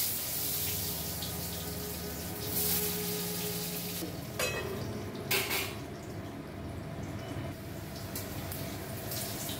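Cumin, cinnamon and cardamom spices sizzle and crackle in hot oil in a pan, a steady close hiss with bursts of louder spattering partway through.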